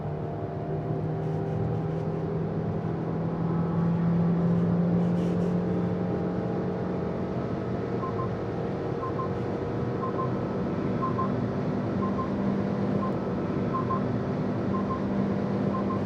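A Maruti Suzuki Victoris car accelerates hard from 90 to 130 in normal mode, a steady engine drone with rising tonal whine under continuous road and wind noise, heard from inside the cabin.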